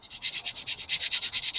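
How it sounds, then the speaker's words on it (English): Aggressive hand sanding, a fast, steady back-and-forth rasp of about a dozen even strokes, close and fairly loud with no talk over it. "He's doing some pretty aggressive sanding there."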